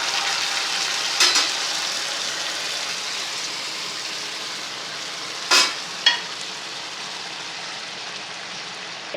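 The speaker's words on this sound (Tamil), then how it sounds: "வெங்காயம் இப்படி நிறம் மாறி வரும்போது பருப்பு எடுத்து இதில் கொட்டிடுவோம்." Onions frying in a pan with curry leaves and horse gram lentils for a Tamil gravy, a steady faint sizzle broken by a few sharp stirring scrapes.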